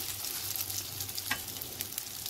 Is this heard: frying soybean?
yes